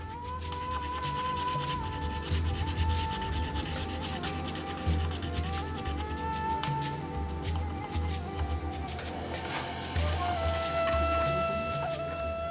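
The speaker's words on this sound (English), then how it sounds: "Each piece of mother of pearl is then finely scraped in order to restore its brilliance." Pieces of mother of pearl are finely scraped by hand for Taghzout marquetry, a steady rasping rub repeated in close strokes, with a faint musical tone running underneath.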